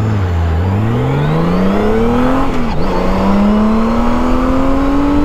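A Honda Gold Wing motorcycle launches and accelerates hard on a wet road, its engine note climbing steadily through a gear change, loud and close with no talk.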